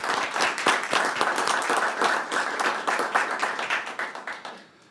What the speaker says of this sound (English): So let's give Diane a round of applause.